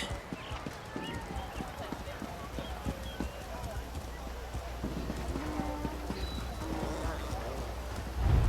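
Hooves of a donkey mount in Elder Scrolls Online clip-clop in a quick, steady rhythm, moderately close, over background game ambience with voices.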